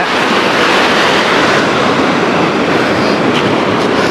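Water rushes loudly and steadily beneath a bridge on a forest drive near Agali in Attapadi, a close, continuous roar with no pauses and no voices over it.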